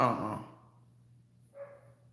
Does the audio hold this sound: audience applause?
no